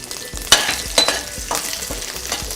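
Tempering spices, urad dal, chana dal and green chilli fry in a small amount of oil in a pan, with a steady crackling sizzle and sharp pops and stirring clinks at a close distance.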